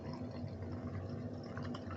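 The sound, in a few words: pouring pink black cherry hard Mountain Dew like a beer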